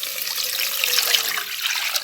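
Water is poured steadily into a pan for Kerala-style ghee rice, a continuous bright splashing stream heard up close with no talk.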